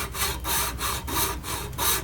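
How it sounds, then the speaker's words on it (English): A hand saw cuts along the glued seam of a Radio Shack TRS-80 plastic case in steady, rhythmic back-and-forth strokes, loud and close with no talking. "put the blade into the ridge where the top and bottom are glued together and start cutting"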